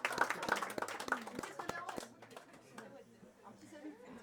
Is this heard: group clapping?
yes